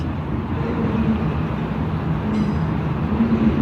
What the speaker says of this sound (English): Train backed in early this morning and was loading its cargo, and now they're pulling out.